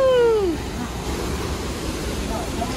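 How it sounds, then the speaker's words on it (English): The waterfall at Okere Falls near Rotorua, where whitewater rafters run the drop, gives a steady rushing roar close by, after a brief vocal whoop at the start. "they raft down that waterfall there"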